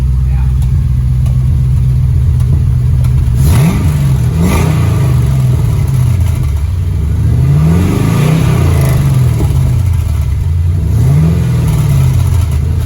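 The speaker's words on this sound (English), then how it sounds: "you can hear that one blown out muffler that's rattling like crazy" A car engine at idle blips into several revs through an old blown-out muffler, a loud, raspy exhaust with rattling on each rise, while people talk over it nearby.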